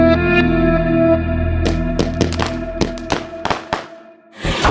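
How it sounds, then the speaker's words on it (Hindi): Firecrackers bursting in a string of sharp, loud cracks with a bright electronic tone ringing underneath, the pops clustering irregularly and ending in a dense final burst. "पता नहीं कौन पटाखे फोड़ रहा है"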